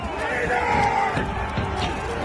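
A crowd of rioters swarms a lower terrace during a clash with police, a loud, dense roar of shouting voices with rising and falling yells and overlapping cries close by.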